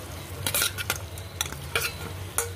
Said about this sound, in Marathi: आता आपलं पनीर फ्राय केलेलं त्याच्यामध्ये टाकून देऊ आपण